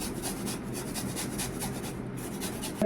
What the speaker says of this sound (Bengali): আপেলগুলো ছুলিয়ে নিয়েছে দেখো এবারে ঘষে নেবো এটা দিয়ে